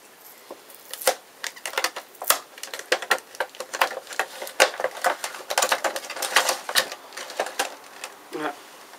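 Packaging around Ikea candles is torn and crinkled open in a dense run of sharp, close rustling crackles. A short voice comes in near the end.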